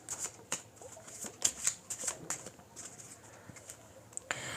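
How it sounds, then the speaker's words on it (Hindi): Tarot cards are drawn and shuffled close by, a quiet run of soft flicks, slides and light snaps that come in uneven bursts over a faint background. "उससे पहले मैं कुछ और कार्ड्स निकालती हूँ"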